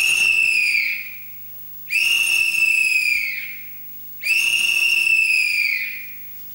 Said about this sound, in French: c'est le sifflet à houlette de Casimir